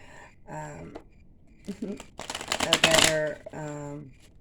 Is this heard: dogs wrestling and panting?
no